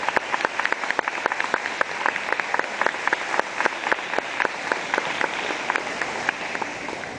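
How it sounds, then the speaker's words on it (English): Middle school students in a gym clap in a round of applause, a dense, steady patter of many hands with sharp individual claps standing out, holding evenly for several seconds. "round of applause."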